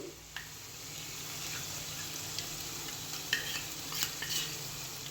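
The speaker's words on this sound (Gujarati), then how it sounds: "હવે આપણે આ જે મસાલાવાળું દહીં છે એને મિક્સ કરી લઈશું ગ્રેવીમાં" Spiced yogurt is stirred into a sizzling potato gravy for Punjabi-style aloo, with a steady soft frying hiss under occasional light spoon scrapes and taps against the pan.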